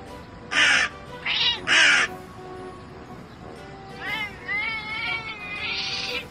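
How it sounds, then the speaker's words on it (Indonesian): A crow caws in loud, bright bursts at a cat across a window, with three sharp calls early on, then the cat answers with a wavering, drawn-out meow rising in pitch, both close and clear. "si burung gagak mencoba meledak si kucing dari seberang jendela"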